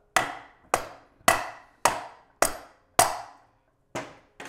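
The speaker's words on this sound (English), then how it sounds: "We're using a dead blow hammer. We're not hitting it very hard." Dead blow hammer tapping on a 1993 Honda CR250 dirt bike engine case during a teardown: seven light, evenly spaced knocks, close and crisp, each with a short decay, no talking.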